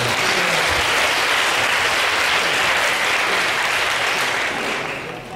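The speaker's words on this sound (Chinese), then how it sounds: "那我们再次掌声热烈谢谢欧欧华先生" An audience at the COSCUP 2011 open-source conference gives a warm round of applause after a talk, steady dense clapping from many hands that holds for several seconds and then begins to fade.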